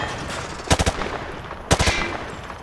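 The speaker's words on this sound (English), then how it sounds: "Grab that weapon off the table and fire at the targets behind you." Two quick bursts of automatic weapon fire at range targets in Modern Warfare 2, each a tight cluster of three or four sharp shots about a second apart, loud and close over a low background hum.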